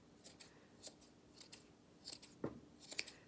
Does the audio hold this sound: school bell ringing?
no